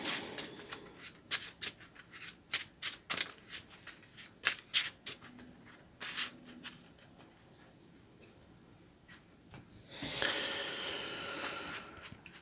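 A deck of playing cards is shuffled during a Marvel Champions card game session: a run of crisp riffling flicks and taps, close and fairly quiet, ending in a brief louder burst of cascading cards.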